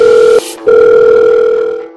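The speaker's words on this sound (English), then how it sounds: "My phone rang." An electronic telephone ringing tone sits inside a song, a loud steady tone that is cut by a brief gap and then resumes and holds before fading slightly.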